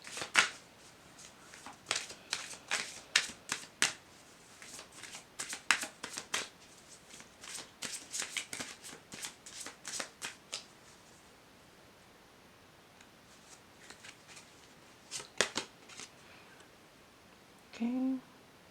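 Oracle cards being handled and shuffled, a long run of rapid papery flutters and riffles in irregular bursts with a pause near the end, close and moderately quiet.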